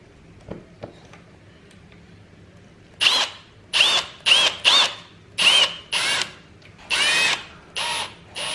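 A power screwdriver drives screws into IKEA Malm furniture parts in a series of about eight short, loud whirring bursts, each ending in a rising whine. The bursts are evenly spaced and follow a quiet opening, with no talk.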